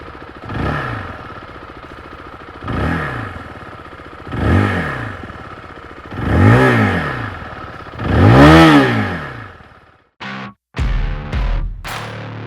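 A Zontes 350T ADV motorcycle with a 348cc engine revved through its exhaust, five rising and falling blips that grow longer and louder each time, followed by a couple of sharp clattering knocks at the end.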